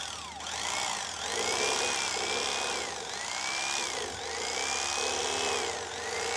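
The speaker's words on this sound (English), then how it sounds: "that's the best job I've seen with an electric knife" An electric fillet knife cutting rib bones out of a Lake Erie fish, a loud steady motor whine that rises and dips in repeated sweeps as the blade works, close and continuous.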